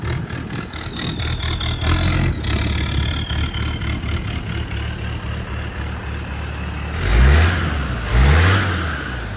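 A rebuilt Land Rover Defender 110 engine runs with a steady close rumble, then gets two strong revs that rise and fall near the end.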